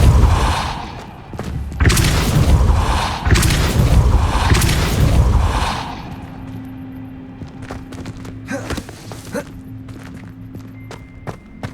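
A Depulso spell cast in the 2023 video game Hogwarts Legacy: a run of loud, booming, whooshing blasts for several seconds, then a quieter stretch with a low hum and faint scattered clicks.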